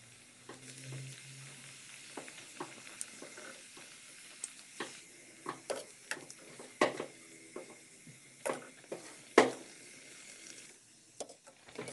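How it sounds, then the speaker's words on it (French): Beignet dough fries in hot oil turned down to medium heat, a soft continuous sizzle broken by frequent sharp crackles and pops, with no voices. "dès que je commence la friture, je la baisse à feu moyen pour qu'elles soient bien cuites dedans."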